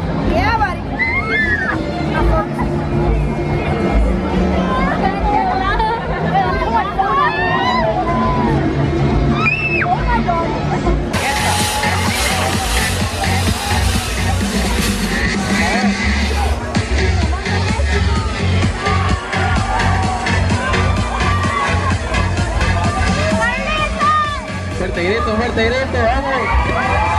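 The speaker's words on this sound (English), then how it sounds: "why is everyone screaming?" Crowd of riders shrieking and whooping on a levitating boat ride at a Costa Rica carnival rodeo, loud and continuous, with cheers and children's shouts layered over a busy fairground din.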